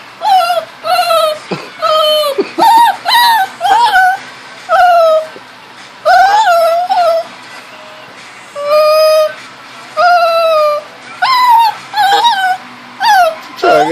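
A shaking puppy whimpers and yips in a long series of high, wavering cries, loud and close, with short pauses between each burst.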